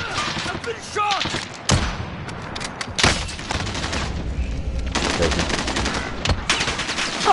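Video game gunfire in a shooter match, with dense rapid bursts and single sharp shots and booms coming steadily across the whole stretch, loud and close, with a player's voice talking under it.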